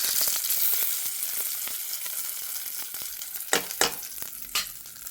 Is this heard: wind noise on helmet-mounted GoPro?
no